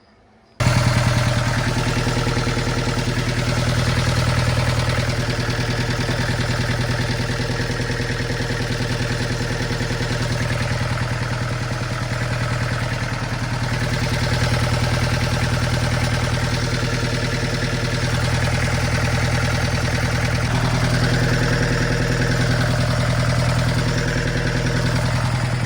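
A burnt scrap Bobcat skid steer starts abruptly and then idles steadily and loudly close by. Its low, even engine drone runs throughout with slight fluctuations and no talk.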